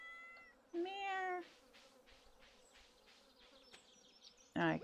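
A cat in a farming video game meows twice, a drawn-out cry followed by a short sharp one, with faint buzzing insects in the background.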